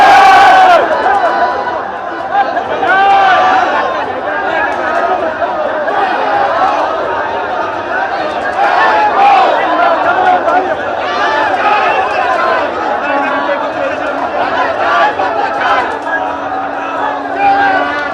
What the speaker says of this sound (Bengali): পরিষ্কার স্লোগান তোলা হচ্ছে